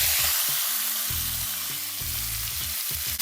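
Thin slices of chicken frying in avocado oil in a pan: a loud, steady close-up sizzle runs throughout, with faint low thumps and scrapes as the meat is moved.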